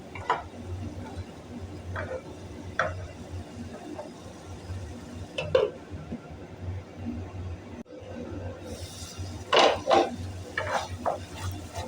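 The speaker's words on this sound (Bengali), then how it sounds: "এরপর জল দিয়ে আরও একটু ভালো করে আমি কষিয়ে নেব যাতে তেলটা পুরোপুরি ছেড়ে যায়" Chicken masala being stir-fried with a little water in a pan, giving a soft steady sizzle with scattered spatula scrapes and taps, a louder cluster of scraping near the end; no voices.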